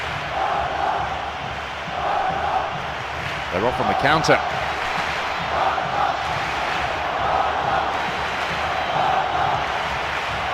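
Stadium crowd at a football match roaring and jeering after a yellow card, a dense wall of voices with a sharper burst near the middle, under a commentator's voice.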